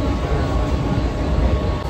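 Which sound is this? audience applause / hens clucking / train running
train running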